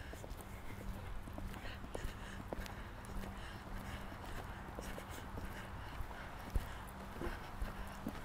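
A pony's hooves thud in a regular trotting beat on an arena surface during a riding lesson, with an instructor's voice over the steady rhythm.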